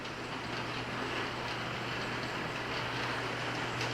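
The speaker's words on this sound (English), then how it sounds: "So the train is now going through Boeville station." A model train rolls through Boeville station hauling Penn Line passenger cars, giving a steady, faint mechanical rumble and hum that holds unchanged the whole time, with no talking.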